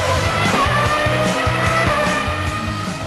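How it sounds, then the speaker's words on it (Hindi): Formula 1 race cars roar on a racing track, a loud, continuous engine whine with rhythmic rising pitch sweeps as the revs climb and shift, dense and close throughout. "रेसिंग ट्रैक पर जब F1 की कारें दहाड़ती हैं तो जेट प्लेन की आवाज भी कम पड़ जाती है।"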